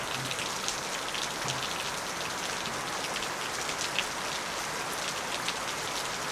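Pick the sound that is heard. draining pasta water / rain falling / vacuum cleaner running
rain falling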